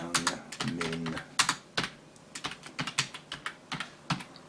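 Computer keyboard typing, close and fairly quiet, comes as uneven bursts of quick key clicks and taps with short pauses between them, and no one speaks.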